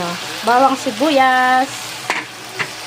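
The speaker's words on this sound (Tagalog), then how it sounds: "Gusto ko muna maprito-prito yung manok." Chicken pieces frying in a pan with ginger and garlic for kinamatisang manok. A steady sizzle runs underneath while someone talks over it.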